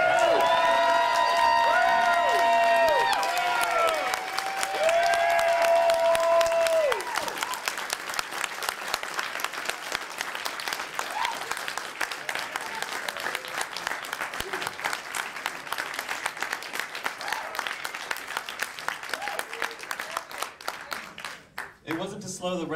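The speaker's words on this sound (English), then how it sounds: "issue forth a noise with your hands and mouth of appreciation for Sybil Danning to come out here tonight." A theater audience at a cult film festival applauds and cheers for a guest, with a loud, sustained wash of clapping, whoops and crowd noise that tapers off near the end, while tones and a voice sound briefly at the start.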